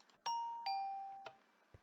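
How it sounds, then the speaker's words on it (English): A Minecraft doorbell chimes twice in a clean electronic ding-dong, followed by a couple of soft clicks. "Only side effect is to get out, you gotta hear the doorbell."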